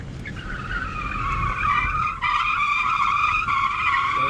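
Tires squealing hard as a Ford Mustang Dark Horse brakes on a race track, a loud sustained screech over engine noise, briefly interrupted and then resuming with a shifting pitch.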